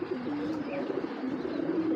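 Giribaz high-flyer pigeons coo in a steady, low rolling murmur, several birds overlapping close by with no pauses.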